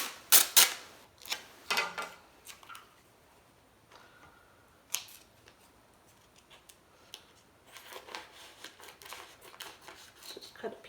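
A piece of clear application tape is cut from a roll for glass etching, giving a few sharp snipping clicks at the start followed by faint handling rustles and scattered light taps.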